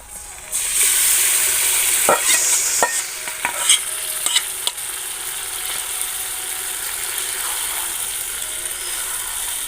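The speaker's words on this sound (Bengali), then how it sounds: "তো পেঁয়াজটা ভাজা হোক, তারপরে আমি দেবো যে মশলাটা মেখে রেখেছি মাংসের সাথে" Onions sizzle and fry in a pan on a stove before spiced chicken is added, a steady close hiss with a few sharp clicks and scrapes of stirring early on.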